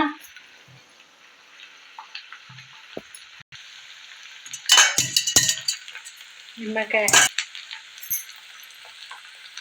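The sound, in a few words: fish frying in oil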